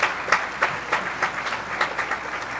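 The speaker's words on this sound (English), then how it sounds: "give yourselves a round of applause" An audience at a mayor's business breakfast applauds, a dense, steady wash of clapping with rhythmic swells, fairly loud and continuous from a roomful of people.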